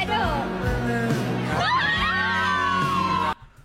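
Crowd of students shouting and cheering together as exam results are opened before their teachers, with excited yells and high whoops, loud and sustained until an abrupt cutoff.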